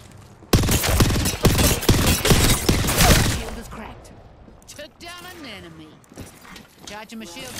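Rapid automatic gunfire in the Apex Legends video game bursts out loudly for about three seconds, then gives way to quieter mechanical clicks and game sounds while a voice speaks.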